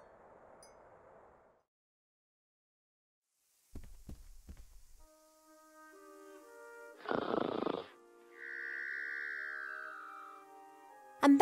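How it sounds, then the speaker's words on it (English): Cheep Cheep snores in The Book of Unwritten Tales 2, with a few distinct, spaced game sounds: soft thumps, a raspy breathy burst and a drawn-out whistling tone against near silence, with no talk. "that's the sound of Cheep Cheep snoring"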